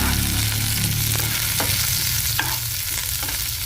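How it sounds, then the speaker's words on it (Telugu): Dried chilies, curry leaves, cumin, mustard seeds and chana dal fry in hot oil for a tempering, with a continuous loud sizzle and occasional sharp crackles and spoon-stirring clinks. "మనం పోపుకు ఎండుమిరపకాయలు, కరివేపాకు, జీలకర్ర, ఆవాలు, పచ్చిశనగపప్పు ఇవన్నీ కూడా మనము పోపుకు రెడీ చేసుకుంటున్నాం."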